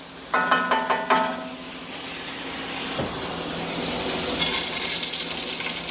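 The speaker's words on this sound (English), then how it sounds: "Sizzling, that's almost ready." Kielbasa sizzles in a hot pan, a steady crackling hiss that grows slightly louder, after a few clinks of a utensil at the start.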